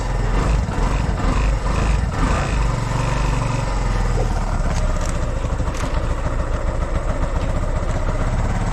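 A farm engine warms up in heavy rain during a cucumber harvest, a loud, continuous low rumbling idle with a rough, steady drone and no talk over it.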